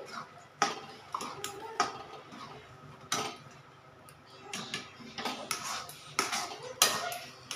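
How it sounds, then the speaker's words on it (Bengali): A spoon stirring thick semolina batter in a metal pot, irregular scraping clinks and knocks against the pot at close range, without speech. "এইভাবে অনাবরত নাড়তে হবে।"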